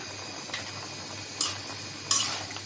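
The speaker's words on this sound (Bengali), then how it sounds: "সব কিছু দিয়ে দিলাম এখন ভালো করে এটা কষাই নেবো" Taro and lentils sauté in a pan, with a low, steady sizzle. A few sharp clinks of a stirring utensil against the pan stand out, and no one talks.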